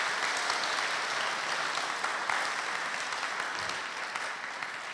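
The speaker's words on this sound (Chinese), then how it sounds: "所以再来一次给他们掌声。" Audience clapping for a church choir at a 50th-anniversary thanksgiving concert in a Chiayi Catholic church, dense sustained applause filling the hall, steady and moderately loud.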